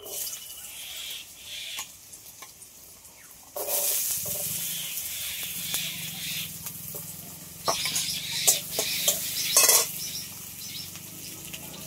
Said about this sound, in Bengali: একটা ছোট আলু এরকম ছোট ছোট করে কেটে নিয়েছি, এগুলো আগে ভেজে নেব।